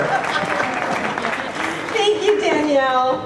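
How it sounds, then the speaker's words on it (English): Audience applause at a media event, a steady wash of clapping that carries on beneath a voice talking, growing slightly louder toward the end. "You can applaud her!"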